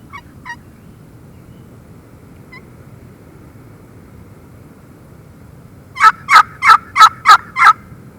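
A turkey call sounds near the end: five loud, rapid yelp-like notes in steady rhythm, after a few faint, scattered chirps over a low outdoor rumble.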